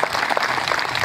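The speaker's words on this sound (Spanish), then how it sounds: "miren si no merece un aplauso por eso" A short burst of crowd applause at an anniversary celebration with a housing lottery, dense and even for about a second.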